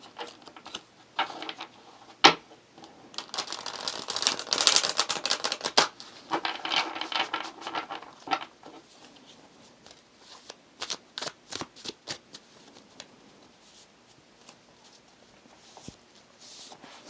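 A Hush Tarot deck being shuffled at close range, quick papery riffles and soft card slaps building into a dense burst in the middle, then tapering to scattered light taps and flicks.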